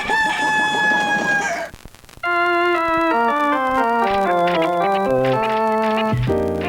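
A rooster crows loudly in one long call, followed by a bright jingle melody in a Gravy Train chicken-flavour dog food commercial.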